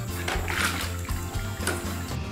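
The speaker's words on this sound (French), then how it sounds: "Waouh, quelle grosse éclaboussure!" A small toy dog comes off a toy slide and splashes into water, making a loud sloshing splash that spreads through the whole short moment, heard over background music.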